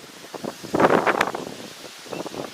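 Strong wind gusts during a cyclone in Chennai, a steady broadband roar that swells into loud rushing bursts with rustling in the middle, then eases off and picks up again, with no speech.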